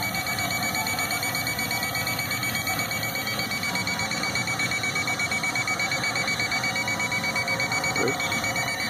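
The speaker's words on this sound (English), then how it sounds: "If it gets over about 850, it starts beeping." A waste oil burner stove's temperature alarm beeps shrilly, continuously and rapidly, loud and close, over a steady background hum.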